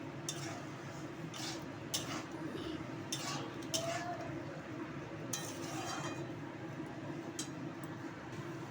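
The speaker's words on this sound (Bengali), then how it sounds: "ছোলাগুলো এবার দিয়ে দিলাম আমি, দিয়ে মশলাটা এবার কষাতে শুরু করলাম" Chickpeas are stirred and fried with spices in a pan, soft scraping and intermittent metallic clinks of a spoon against the pan over a low, steady background hum, quiet and close.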